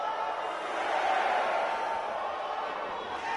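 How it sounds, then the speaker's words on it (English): An arena crowd in the WWE 2K18 wrestling game roars in a dense, sustained swell as the fans count along with the referee, with no break in the noise. "This Houston crowd counting along with the referee"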